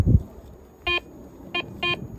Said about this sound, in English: What was possibly beeping there?